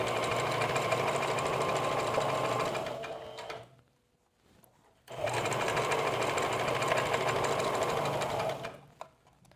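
Sewing machine stitching fabric for a jumpsuit, a fast steady mechanical whir in two long runs separated by a short pause, close and loud with no talk.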